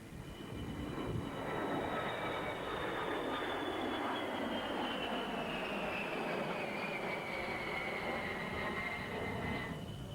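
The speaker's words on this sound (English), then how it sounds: "So we have a simulated mid-air refuel." Aircraft flying low in a simulated mid-air refuelling display at an Australian airshow, a loud sustained jet roar with a high whine that slowly falls in pitch as they pass.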